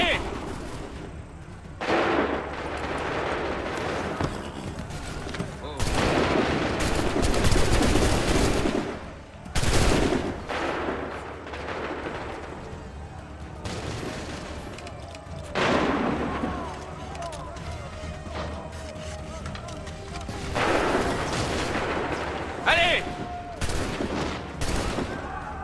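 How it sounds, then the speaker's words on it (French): Musket volleys in Assassin's Creed III, repeated loud crackling bursts of massed gunfire with booming reports, separated by short gaps, while voices shout commands in French. "Tenez-vous prêts! Ouvrez le feu!"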